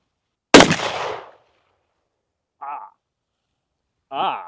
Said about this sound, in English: Delance, you have to shoot this.